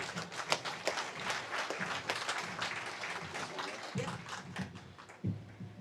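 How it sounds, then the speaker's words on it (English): An audience at a county veterans' Stand Down event claps ahead of a pastor's invocation, a moderate scattered patter of hands that thins out toward the end, with a couple of louder thumps near the close. "No one usually ever claps before I pray"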